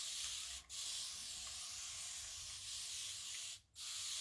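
A chair seat is sprayed with a continuous close hiss that cuts off in two brief gaps, quiet and steady with no talking.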